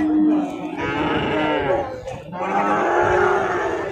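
Heifer calves at a cattle market in Manapparai moo loudly and close by, two long drawn-out calls back to back with a faint crowd murmur beneath.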